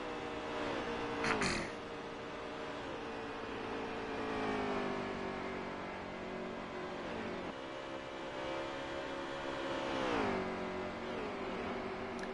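Race cars roar around the track at Daytona in the NASCAR Heat 3 game. Several engine notes drone and sweep up and down in pitch, and cars pass by at a moderate level with no voices over them.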